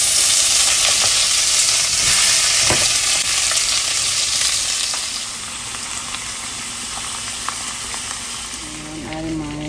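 Peppers frying in oil in a hot pan for a pasta dish, a steady loud sizzle and hiss throughout that eases slightly partway through, with faint kitchen clatter.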